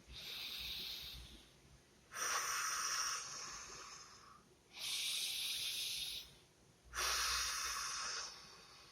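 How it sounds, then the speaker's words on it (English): A person takes four slow, deep breaths in a steady rhythm, each a loud, airy rush lasting over a second, separated by brief quiet pauses, close up with no talking. "take in deep breaths"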